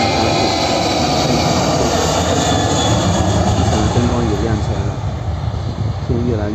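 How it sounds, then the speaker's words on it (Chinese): A China Southern passenger jet accelerates for takeoff at Guangzhou Baiyun Airport at dusk, a steady roaring engine rumble heard from outside the perimeter fence, with a person talking over it. "这架飞机马上就要起飞"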